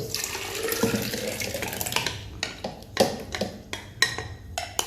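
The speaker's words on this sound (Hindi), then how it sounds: "थोड़ा सा पानी ऐड करेंगे, बर्तन साफ हो जाए।" Water is poured into a grinder jug holding kadhi pakora paste to rinse it, a short splashing pour followed by several sharp clinks and knocks of the jug, close and fairly quiet.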